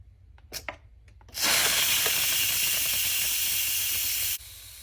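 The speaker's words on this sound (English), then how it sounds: "It's been 10 minutes, so now we're going to release the rest of the pressure." An electric pressure cooker holding rice vents its remaining pressure after a 10-minute natural release. A few soft knocks come first, then a loud, close, continuous hiss of steam for about three seconds that cuts off sharply.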